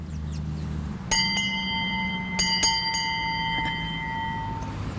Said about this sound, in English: No, really, do you hear the bells?